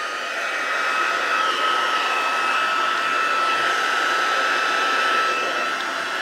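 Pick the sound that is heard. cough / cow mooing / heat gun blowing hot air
heat gun blowing hot air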